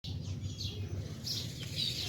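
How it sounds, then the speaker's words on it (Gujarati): Sparrows feeding their chicks chirp in short, high, repeated bursts at moderate distance over a low rumbling background. "ચકલાઓ પોતાના ઘરમાં દાણા ખવડાવી રહ્યા છે"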